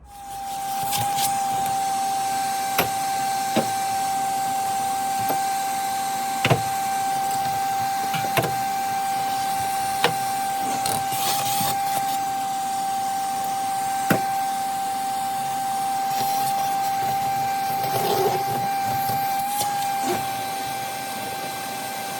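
A vacuum cleaner runs steadily while cleaning out a rare ex-government car's interior, a constant whining hum with periodic clicks and knocks as the nozzle bumps surfaces, close and continuous throughout.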